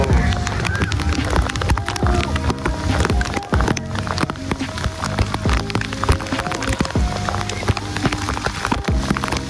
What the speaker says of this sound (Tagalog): ang ulan na, oh